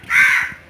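One loud, harsh caw from a crow sounds close by, a single drawn-out call that fades quickly.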